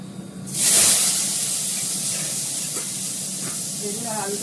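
A loud sudden hiss as eggplant and potato drop into hot mustard oil, the sizzle settling into a steady frying crackle that holds through the rest, close and continuous.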